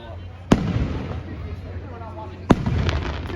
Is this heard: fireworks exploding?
yes